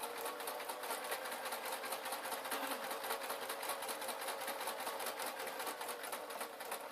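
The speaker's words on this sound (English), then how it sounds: "put the foot down again and continue sewing" A sewing machine stitches a Downton Abbey style dress in a steady, fast, continuous mechanical whirr with regular needle ticking, heard close and alone.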